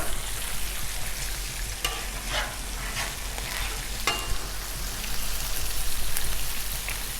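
Vegetables fry in olive oil on a Blackstone griddle, with a constant close hiss of sizzling and scattered spatter pops and scraping from stirring, and no voices.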